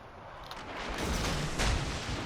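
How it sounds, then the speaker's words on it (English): Torpedo launches and weapon fire from a warship in a naval combat video game, a loud broadband rumble with rising booming bursts, the heaviest near the end. "now I have to turn this way to shoot the next"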